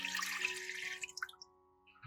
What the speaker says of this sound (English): Add 250 ml of filtered water.